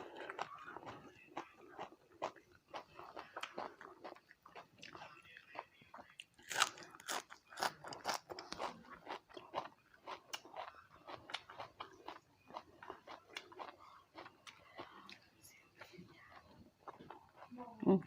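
Someone eats a Thai meal of raw beef soi ju with bitter koi, a steady run of close, crunchy biting and chewing sounds all the way through, with a voice talking over the eating.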